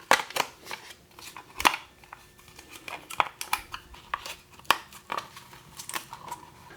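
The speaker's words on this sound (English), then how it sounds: "So I have this foil tape here. I just want to close up all the edges." Foil tape is torn and pressed along the edges of a plaster mold, giving sharp intermittent crinkles and snaps close by at a faint, irregular pace.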